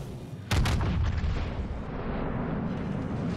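World of Warships battleship secondary guns fire: a sudden heavy boom strikes after a brief lull, then a long rumbling roar of continuing gunfire and blasts sustains loudly to the end.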